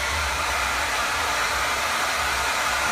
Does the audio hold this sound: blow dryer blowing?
yes